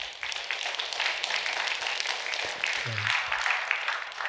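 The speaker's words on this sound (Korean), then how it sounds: "여러분 큰 박수 한번 해주셔요" A church congregation at a Friday evening service in Gunsan claps together in dense, sustained applause for a newly appointed elder, with a brief low voice surfacing in the middle.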